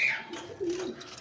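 A strawberry finch gives a brief call, a thin high note followed by a couple of softer lower chirps, close and fairly quiet, no talk.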